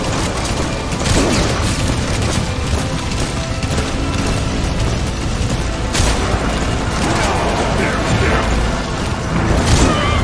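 Dense, continuous gunfire and heavy booms from a firefight in Metal Gear Solid V: The Phantom Pain, loud and busy throughout with mechanical clatter mixed in and no clear speech.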